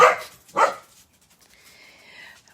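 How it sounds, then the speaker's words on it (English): Dogs bark indoors nearby, two sharp loud barks in quick succession followed by a faint whine, with no talking. "these dogs are particularly barky today"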